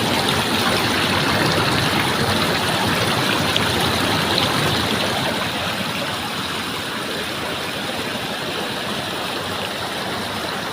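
Stream water rushes steadily through a narrow gap at a tied fishing trap in the rain, a loud continuous close-up flow that keeps the same level throughout with no voices.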